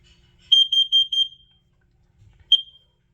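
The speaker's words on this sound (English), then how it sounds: "It said fire, fire, and then in the carbon monoxide round, it said warning, carbon monoxide." A talking fire and carbon monoxide alarm gives a rapid run of about six sharp, shrill beeps, then one more beep after a short pause, loud and near with no speech audible.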